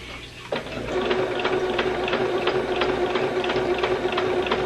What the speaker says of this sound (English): you can actually just sew right over the pins